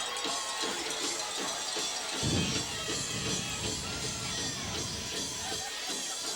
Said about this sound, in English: And you can hear their crowd on their feet.